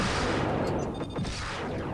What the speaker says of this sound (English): Missiles to you.